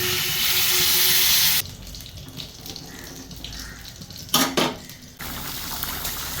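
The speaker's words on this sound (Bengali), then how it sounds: "এবার জল দিয়ে দিচ্ছি" Water is poured into a pan of spices (turmeric powder, cumin powder and salt) frying for a fish curry with potato and cauliflower: a loud rushing hiss for about a second and a half, then a quieter simmer with a brief burst of clatter.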